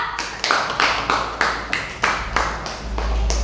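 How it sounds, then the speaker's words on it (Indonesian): Applause for a group in an Indonesian classroom or workshop session, a few people clapping in loose bursts of separate sharp claps, fairly close, with a low hum building toward the end. "Aplaus untuk kelompok buah"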